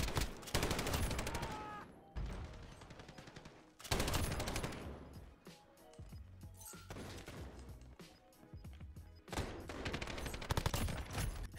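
A PKM light machine gun fires in Modern Warfare, with several long automatic bursts broken by short pauses and heavy, close, loud shots.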